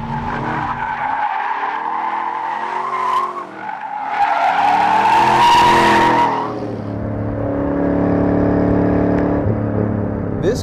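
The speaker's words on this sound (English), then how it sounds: "it will go to a power slide like" A 2013 Chevrolet Camaro muscle car power-slides with a loud, sustained tire squeal over a revving engine, rising in pitch and then settling into a steady engine drone near the end, with no voices.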